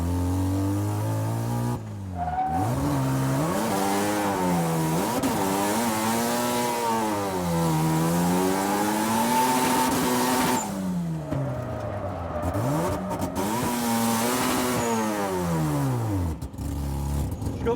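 A drift car's engine revs hard and repeatedly, swinging up and down in pitch through long sustained pulls, with abrupt drops and surges as the clutch is kicked, loud and close throughout.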